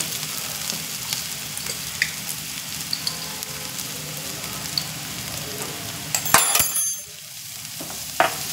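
Chopped onions sizzle steadily in a hot pan with salt and turmeric for a coconut drumstick gravy curry, a continuous close crackle with a brief louder stir or clatter near the end.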